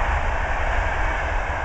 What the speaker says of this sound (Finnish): Nyt menee juna.